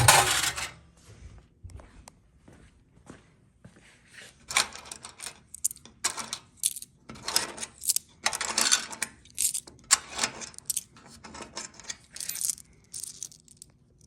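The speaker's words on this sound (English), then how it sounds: "Big payout, 12 coins." A 1930s Automatic Games Company Pile Driver coin-op machine pays out 12 Indian Head nickels, producing bursts of clattering metallic coin drops and mechanical clicks in irregular clusters, fairly close and loud.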